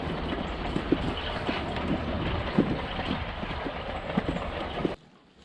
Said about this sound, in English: Nice view of the train, diesel one this time.